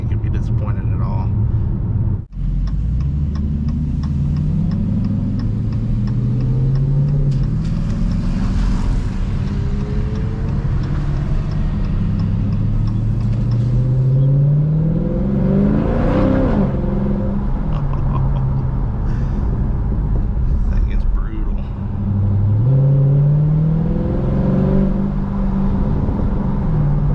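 A 2022 Dodge Challenger R/T Scat Pack with a Borla ATAK cat-back exhaust revs repeatedly, each throttle blip rising and falling in a deep, loud V8 roar close to the microphone, with idle rumble between pulls.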